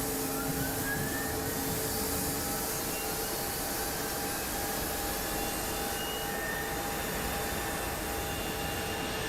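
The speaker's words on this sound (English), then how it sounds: "let's go ahead and start some engines up" An Airbus A220 jet engine spools up in Microsoft Flight Simulator 2024, a steady roaring rush with faint tonal whine lines, continuous and even throughout with no talking.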